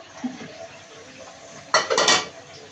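Potatoes tumble into a pot of broiler chicken curry with a sudden burst of clatter and scraping, a few loud clanks of a spoon against the pot following a quiet stretch.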